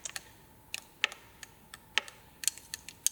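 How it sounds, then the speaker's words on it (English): A spoon stirs thickened body wash gel in a container, giving faint, irregular clicking taps against the sides, quiet and close with no talking. "I think you can probably hear that my spoon is not moving as quickly as it was before."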